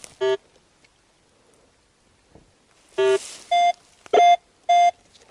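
Metal detector tones during a dig in the Carpathian mountains: one short electronic beep, a pause, then a rapid series of four or five loud, steady beeps of equal length in an even rhythm.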